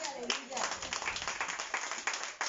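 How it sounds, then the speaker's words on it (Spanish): A church congregation claps in a brief burst of applause, with a voice speaking over the clapping. "Un aplauso."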